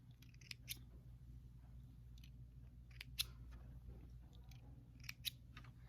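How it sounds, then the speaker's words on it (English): Scissors trimming loose threads on a freshly sewn fabric eye mask, giving several quiet, crisp snips spaced irregularly over a low room hum, close by and alone. "Trim my threads here."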